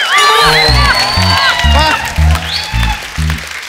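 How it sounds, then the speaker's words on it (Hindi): A television comedy show's studio audience claps and cheers loudly, a sustained burst of applause with whoops laid under music and talk. "जोरदार तालियां हो जाएं"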